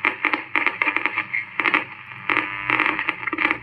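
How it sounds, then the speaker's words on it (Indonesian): A vintage Cawang radio receiver plays an AM broadcast, its sound a steady midrange band of tuned audio that swells and drops in short bursts with faint crackle beneath, heard up close with no talking. "waktu Bang Kan Arif videoin itu lebih enak, pulen suaranya ngebreak di AM"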